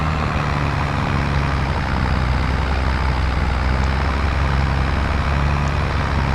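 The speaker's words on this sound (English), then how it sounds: "I wish this tractor was a little bit faster." Tractor engine in Farming Simulator 22, a steady loud low drone with constant rumble, continuous and unchanging throughout with no voices.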